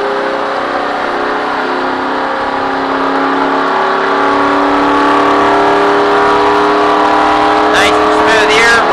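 Race car engine pulling steadily after a shift into fourth gear, a loud sustained droning roar heard from inside the cockpit, with a driver coach talking over it.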